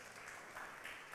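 Applause for a House of Assembly member at a town hall meeting, a faint continuous patter of clapping from a distant audience, alone and without talk.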